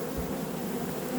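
A swarm of honeybees buzzing steadily just after the package of bees is poured into a hive, a dense close drone of many wings with no talk.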